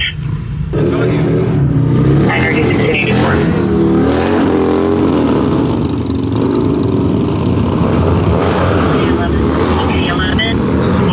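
Motorcycles rev and roar along a street while riders pull wheelies, a loud continuous engine drone with rising throttle swells, and excited voices talking close over it.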